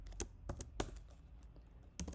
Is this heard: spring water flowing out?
no